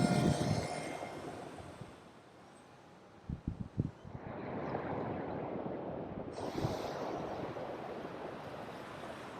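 A Twin Timber model plane on its maiden flight makes a steady, airy engine drone mixed with wind rush. The sound dips to a quieter lull, a few sharp thumps follow, then the drone swells back louder.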